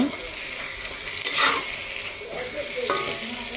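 Chicken chap with chopped coriander being stirred in a pan, a soft continuous sizzle broken by scraping strokes and a brief louder clatter of the utensil against the pan.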